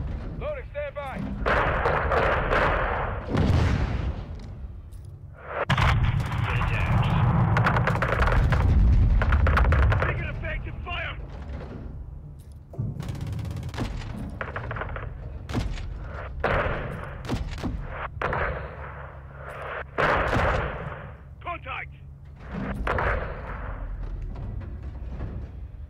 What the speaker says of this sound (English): Seeing small arms fire from the gas station.